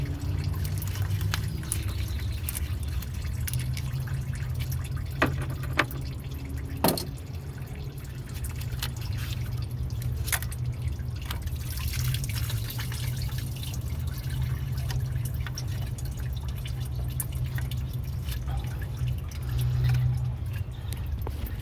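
Engine coolant drains from a hose into a drain pan while a car's cooling system is flushed and the thermostat replaced, giving a steady low trickle with scattered drips throughout.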